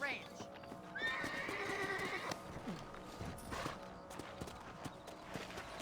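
Horses in the Red Dead Redemption video game whinny and neigh loudly while hooves clip-clop steadily underneath, with a voice speaking over the game sounds.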